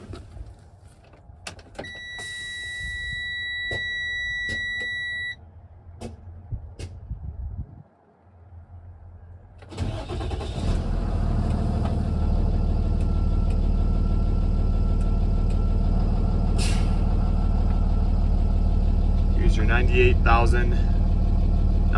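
A 2017 Freightliner M2 box truck with a 6.7-liter Cummins ISB inline-six and air suspension cranks over, catches and settles into a loud, steady diesel idle close by, after warning chimes and brief talk.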